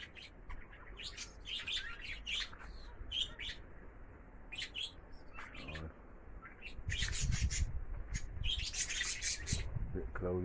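Loft pigeons, both old and young birds, fly around outdoors on a cloudy day, with scattered chirps and calls over wind and a distant rumble that swells near the end.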